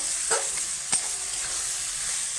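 Ash gourd fries in a pan with a steady close sizzle, while a couple of sharp scraping taps of stirring stand out early on.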